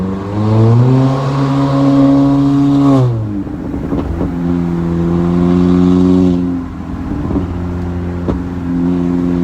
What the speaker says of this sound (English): it was just non-stop backfiring